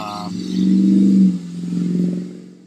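A loud vehicle with no muffler roars past close by, its rough exhaust swelling, dipping, then swelling again before fading, with no voices over it.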